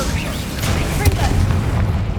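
An Incendio fire spell is cast in the video game Hogwarts Legacy, producing a loud booming burst with crackling rushes layered over dense low ambience, along with a sharp peak midway.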